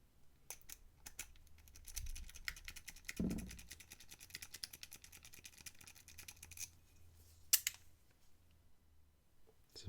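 Quiet, rapid metallic clicking and scratching as a Southord pocket pen pick rakes a lock, with irregular bursts of tiny ticks and a few louder clicks up close.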